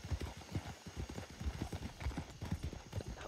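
Steady clip-clop of horse hooves at a walking pace in the Red Dead Redemption 2 roleplay game, close and fairly loud, with a low game-like ambience underneath.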